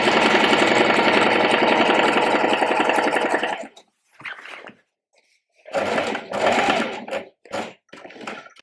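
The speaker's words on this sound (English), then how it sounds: "go back and sew another line under that first one" A sewing machine stitches lines of shirring across a dress, running in a fast, steady whir for several seconds and then in short stop-start bursts, close and fairly loud.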